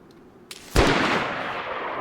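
A single loud, close gunshot from a firearm in the video game DayZ cracks out after a faint earlier tap, then trails off in a long, rumbling echo.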